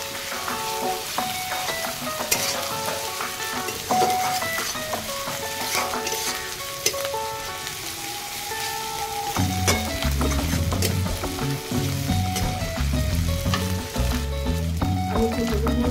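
Liver fries steadily in a pan with ginger paste, giving a loud, continuous sizzle close by that runs the whole time with no talking, while a louder, bubbling fry rises toward the end.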